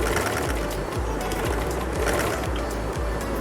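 A sewing machine runs continuously, stitching a trouser hem, with a steady mechanical whir and regular needle thumps about twice a second, close and moderately loud, no talk.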